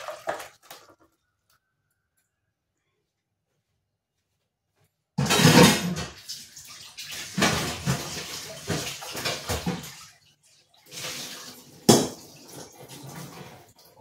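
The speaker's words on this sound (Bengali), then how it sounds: "এই ঝোল ঢেলে দিলাম।" Fish curry broth is poured from a pot after a silent pause, a close wet splashing and sloshing with metal pan clinks, in uneven bursts that trail off.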